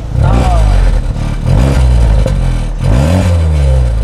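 A Toyota GR Corolla with an A'PEXi exhaust in comfort mode rumbles up close with a deep bassy note and rising, falling revs, while people talk over it.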